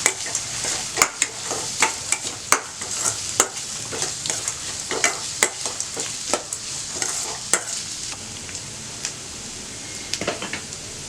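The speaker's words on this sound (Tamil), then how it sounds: "இப்போ வெங்காயம் வதங்கிடுச்சு." Onions sauté in a pan with a soft background sizzle while a spoon repeatedly scrapes and knocks against the pan in an irregular rhythm, close and clear.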